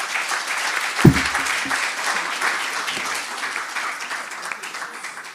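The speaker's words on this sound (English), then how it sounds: "Round of applause." Audience applause after a speaker at a Black History Month discussion event on racism in South Africa, a steady wash of crowd clapping with a single low thump early on.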